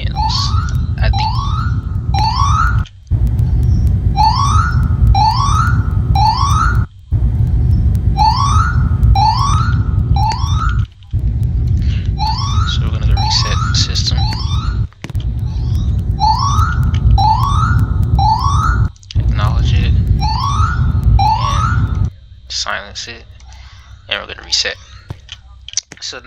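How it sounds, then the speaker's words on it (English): A repeating electronic fire alarm pattern from a Notifier NFS 3030 system in Roblox, in rapid bursts of rising tones, cycling steadily with brief gaps, loud over a low hum; it cuts out near the end, leaving clicks. "So now that is the fire alarm portion of the system,"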